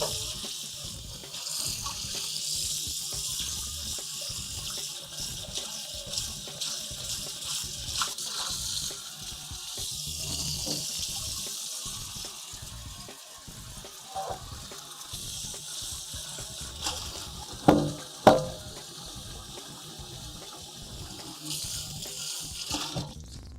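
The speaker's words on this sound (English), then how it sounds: "Rinse out the pasta pan here." A pasta pan is rinsed under a running kitchen tap while salmon spring rolls are being made, a steady stream of water with splashing and clattering of the pan, fairly close, and a couple of louder knocks near the end.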